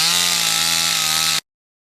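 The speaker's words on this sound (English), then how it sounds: "He bucks the tree up into 12 and 16-foot logs." A chainsaw bucks a felled tree into 12- and 16-foot logs during lumber making at an Alaskan village, a steady loud buzzing cut that runs alone and stops abruptly partway through.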